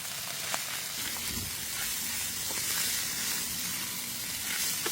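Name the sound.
shredded chicken sizzling while being sautéed in oil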